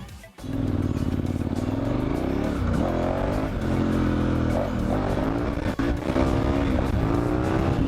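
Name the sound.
dual sport motorcycle on Dunlop TrailMax Mission tires riding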